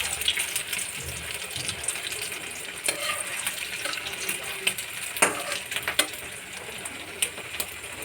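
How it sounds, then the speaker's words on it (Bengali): Vadas made from mashed taro paste deep frying in oil in a wok, a continuous bubbling sizzle with occasional sharp spatters and ladle clinks, close by and with no voices. "এই দেখো বড়াগুলো ভাজা হচ্ছে।"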